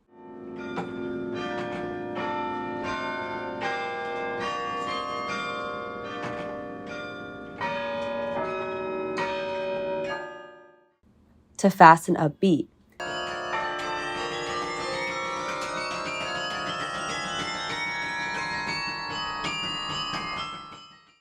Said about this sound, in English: The carillon is a diverse instrument capable of playing a vast array of pieces